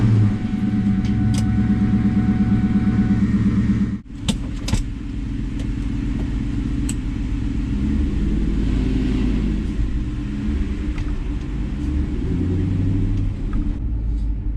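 An Audi S5 fitted with a custom exhaust drives by, giving a steady, loud low engine rumble with a short dip and brief clicks around four seconds, then a continuous droning note while cruising.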